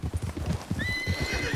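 A white Arabian horse gallops in Red Dead Redemption 2, its hooves pounding in a fast, close, steady rhythm, with a whinny rising partway through.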